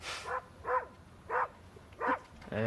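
A dog barks four times in an evenly spaced series, moderately close, with a short whimpering note at the end and no talk over it.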